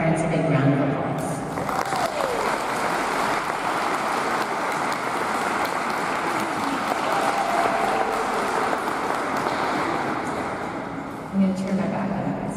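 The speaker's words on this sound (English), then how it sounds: "let's give our parents a big round of applause" Audience at a cadet ceremonial review applauds the parents: a dense, steady wash of many hands clapping that fills the hall for over ten seconds, with a voice faintly heard near the start and end.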